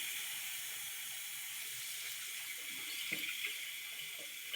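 Hot tap water running steadily to rinse out the urine reservoir of a pBuddy, a constant close hiss of flowing water with a few brief splashes.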